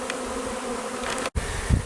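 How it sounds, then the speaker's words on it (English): Honey bees from a 3-pound bee package during a hive install, buzzing in a steady continuous drone at close range, with a brief dropout and a low thump near the end. "we don't have a big swarm of bees"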